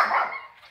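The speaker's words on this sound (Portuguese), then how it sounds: "O cachorrinho latiu" A single short bark from a small dog, sharp at the start and fading quickly, heard close by with no talking over it.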